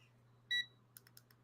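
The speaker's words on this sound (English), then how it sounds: "I have a timer here." A countdown timer gives a single bright electronic beep as it starts, followed by a few soft clicks or taps, in a quiet room.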